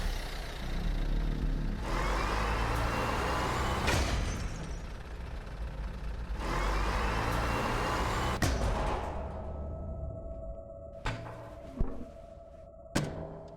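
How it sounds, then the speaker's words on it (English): A car engine in the Lorelai video game, with noisy mechanical rumbling sections, then a quieter stretch broken by several sharp thunks and clicks near the end. "Maybe I can start one of these cars with it?"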